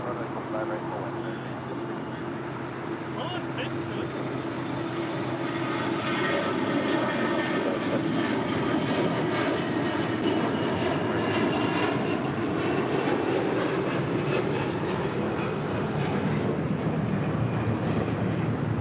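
An Air Canada A321 jet roars loudly on departure at LAX, its engine thunder building and swelling midway with a rising whine, while a voice speaks over it.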